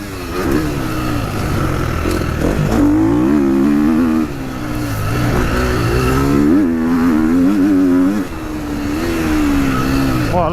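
A GASGAS 450 dirt bike engine revs hard and climbs through the high gears, its whining pitch rising and dropping at each shift, loud and continuous with wind rush and no speech.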